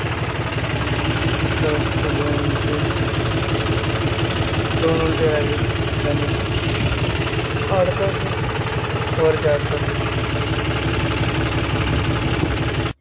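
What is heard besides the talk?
tractor engine running during field ploughing work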